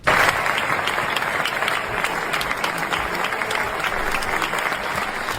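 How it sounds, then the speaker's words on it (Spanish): Loud, sustained applause fills the Spanish Senate chamber after a vote, dense clapping from many people starting abruptly and holding steady throughout. "La votación en la Cámara Alta se cerró con un fuerte aplauso por parte de las personas presentes"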